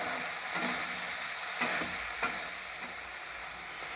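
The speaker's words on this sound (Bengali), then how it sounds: "চিংড়ি মাছগুলো আমি কড়ার মধ্যে দিয়ে দিচ্ছি।" Fresh live pond shrimp fry lightly in a wok for an echor chingri curry. Steady sizzle runs throughout, broken by a few sharp clinks of stirring, and no one speaks.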